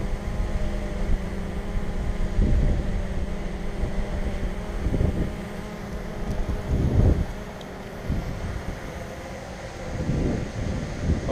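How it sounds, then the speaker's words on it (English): Strong, steady wind buffets the microphone outdoors during a DJI Mavic 2 Pro drone test flight hovering about a foot off the ground, a continuous low roar with rising and falling gusts and no talking. "the wind is strong."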